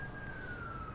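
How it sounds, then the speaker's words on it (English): An emergency vehicle siren sounds outdoors near water during a kayak session with a dog: one steady, slightly falling wail held for a moment over a low background rumble, fairly distant. "Sorry, there's a lot of sirens going on."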